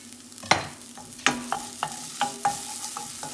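Green chili frying in hot oil in a pan, a quiet steady sizzle punctuated by about six sharp scraping stirs of a utensil, close and without any speech.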